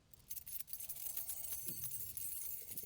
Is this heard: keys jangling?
yes